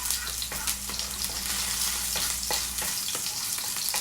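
Green onions sizzle and fry in a hot pan for kimchi soup, a close, steady crackle with stirring scrapes. A low hum underneath stops partway through.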